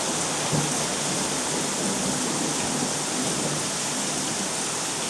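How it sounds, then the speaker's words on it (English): A heavy afternoon thunderstorm pours steady, loud rain over the surroundings, with low rumbles of thunder rolling underneath throughout the five seconds. "Hear that lightning?"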